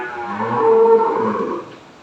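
A dairy cow on a cattle farm gives a single close, full-voiced moo lasting about two seconds, rising and then trailing off.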